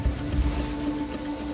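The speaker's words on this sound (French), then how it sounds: "De puissants jet-skis pour affronter les vagues et patrouiller au large." Powerful firefighter jet-skis out on ocean waves off Bayonne, a dense roar of engine and rushing water mixed with wind buffeting the microphone, loud and continuous with a faint steady engine tone and no voices.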